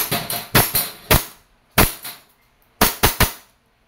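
A WE Airsoft 1911 Type B gas pistol fires a series of sharp, close cracks in small bursts of two or three, separated by brief silences.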